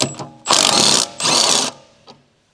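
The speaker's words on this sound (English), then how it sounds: "Use a 1/2-inch 14mm deep socket with an electric impact wrench." An electric impact wrench fitted with a 1/2-inch 14mm deep socket hammers on a Honda Civic front strut-to-knuckle lower bolt in two loud, close bursts of rattling impacts, with brief clicks before and a short faint tail after.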